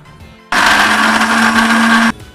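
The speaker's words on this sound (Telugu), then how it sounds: "అల్లం మిక్సీలో పట్టుకుందాము." A kitchen mixer grinder whirs loudly as it grinds ginger, starting abruptly, running steadily for about a second and a half with a constant motor hum, then cutting off sharply.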